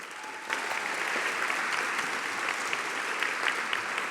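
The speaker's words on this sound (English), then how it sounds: "a very, very strong round of applause for them" An audience at a board of education meeting applauds steadily, a dense wash of clapping from many hands that picks up after a half-second and continues without pause.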